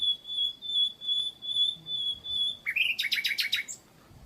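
A small bird sings outdoors along the Compostela pilgrimage route between Livinhac-le-Haut and Figeac, France, giving repeated high sustained whistles and then a quick burst of bright chirps, clear and fairly close.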